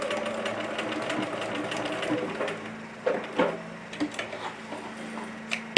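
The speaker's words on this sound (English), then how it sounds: "Just stitch it right across that bottom edge right there." Sewing machine stitching straight across the bottom edge of a ticking-fabric tote, a steady close mechanical whir with rapid ticking that runs continuously, broken by a few bumps and clicks near the end.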